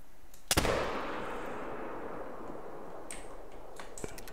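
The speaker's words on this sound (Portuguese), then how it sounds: "Caramba, foi disparo ruim no urso" A single loud rifle shot fired at a bear in the hunting video game The Hunter: Call of the Wild, a sharp crack followed by a long rolling echo that fades over several seconds.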